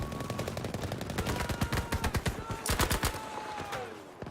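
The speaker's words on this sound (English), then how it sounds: "That sounds like a machine gun down there." Machine gun fire rattles in Battlefield V, a rapid rhythmic burst of shots, mid-distance and steady, rising into a denser volley before trailing off, with no talk.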